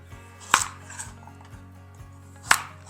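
A knife slicing carrots lengthwise on a cutting board in a home kitchen, giving sharp, isolated chops at an uneven pace, two especially crisp and loud, with softer taps between, close up and without talk.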